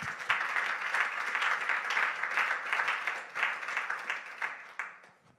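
Steady applause from a congregation at a French-speaking church service, a dense wash of clapping that holds for several seconds, then thins and fades at the end.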